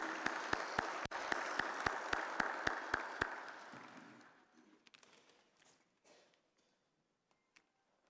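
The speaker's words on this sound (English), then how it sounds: "A round of applause." Applause for Zimbabwe's foreign affairs minister at the SADC Industrialization Week opening: loud, dense clapping with a few sharp claps fades after about four seconds. Scattered claps and soft room noise trail off into near silence.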